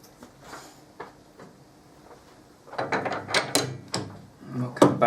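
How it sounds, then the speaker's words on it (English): Metal lathe gearbox being shifted into low range: faint clicks at first, then a series of louder clunks and ratcheting mechanical knocks close by, with no talking. "Put the lathe in low range"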